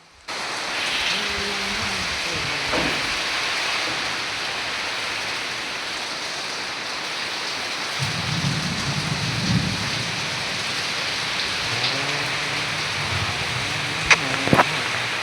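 Heavy rain pours steadily on a construction site during a downpour, a dense continuous hiss on surfaces. Low rumbles of thunder roll in the background, and a couple of sharp knocks come near the end.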